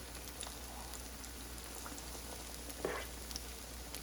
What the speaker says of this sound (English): You wanna dip it, put it in the grease while it's nice and hot.